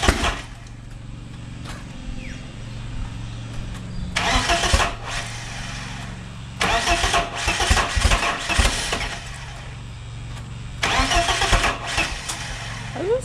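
A turbocharged BMW E36 with an M44 engine being cranked: three loud bursts of starter grinding and sputtering catch break out over a low, steady hum, each lasting a second or two, close and with no speech.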